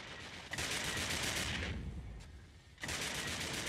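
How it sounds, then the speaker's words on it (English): Dense, continuous weapons fire from spaceships engaging Abaddon battleships in a competitive space combat game tournament, a loud roaring barrage that dips briefly then surges back. "we can see 2 of the Abaddons now taking fire"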